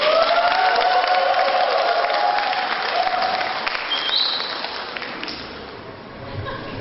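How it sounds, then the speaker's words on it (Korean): An audience at a graduation ceremony gives a warm round of applause to welcome a speaker, steady clapping that gradually fades toward the end, with a faint whistle-like tone partway through. "뜨거운 박수와 환영을 부탁드립니다."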